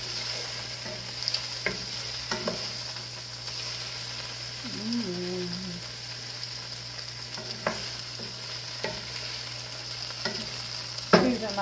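Chicken pieces frying gently in a pan over low heat, giving a soft, steady low sizzle with occasional stirring scrapes and a small clatter near the end.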